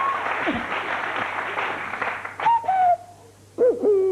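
A man imitates a cuckoo with his voice, two short falling whistled-hoot notes following applause and crowd noise, sounding close and clear.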